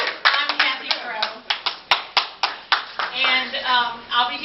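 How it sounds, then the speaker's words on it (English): Quick individual hand claps at a conference speakers and sponsors event, a rapid string of sharp slaps with a speaking voice running over them. "I'm going to clap for you guys"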